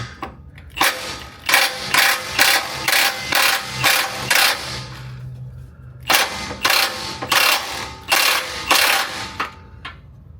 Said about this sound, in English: we're gonna do just loosening for now on that guy. I'm gonna hit the shock bolt.